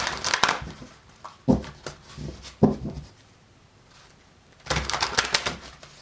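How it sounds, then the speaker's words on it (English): Bursts of rapid riffling and snapping as a deck of tarot cards is shuffled close up, with short taps and pauses between the flurries. "Couple more shuffles here."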